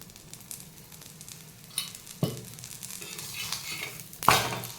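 Sweet corn paratha frying in oil on a pan, with a soft steady sizzle, the spatula scraping and stirring, and a few sharp clinks and taps of the utensil against the pan, close and with no talk.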